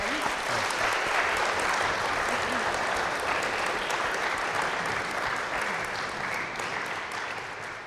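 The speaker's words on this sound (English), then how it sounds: "So give him a hand and welcome him." A room of students gives a welcoming hand to a guest speaker, thick continuous clapping that holds strong and fades gently toward the end, with faint murmurs beneath.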